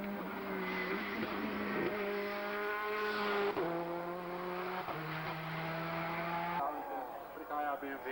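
A Ford race car at a hill climb in Ilirska Bistrica, its engine whining in stepped gear changes as it passes at a distance, under a commentator's voice.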